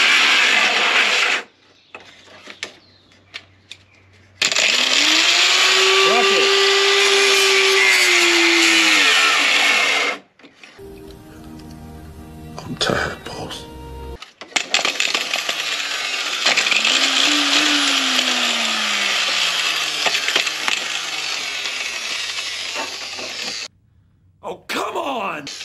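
An old, roughly eight-year-old Harbor Freight Drill Master power drill that is failing runs in two long, loud bursts of whining motor noise whose pitch rises and falls, separated by a short stretch of clattering shop noise and brief pauses.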